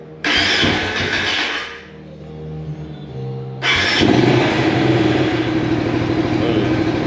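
A motorcycle engine fitted with an Aracer ECU, being fuel-tuned and running rich, catches and roars loudly, dips briefly as it stumbles, then surges back to a steady, rough idle close by.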